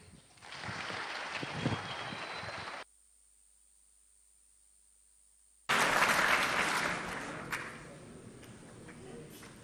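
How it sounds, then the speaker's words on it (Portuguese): Conference audience greets the next speaker with loud, sustained applause that cuts to silence for a few seconds, then returns at full strength and tapers off. "recebam com enorme aplauso o próximo palestrante desta manhã"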